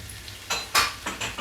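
Potatoes with green chilli being stirred and sautéed in a pan while making a coriander chicken curry, with a soft sizzle under a few close scrapes and clinks of a spoon against the pan.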